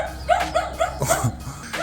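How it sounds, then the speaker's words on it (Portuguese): A dog lets out a quick run of four or five short, sharp barks and yips, close and fairly loud, with small gaps between them. "Vocês sabem que tem uma coisa com latido de cachorro, que o latido de cachorro não tem tecnologia que consiga ocultar"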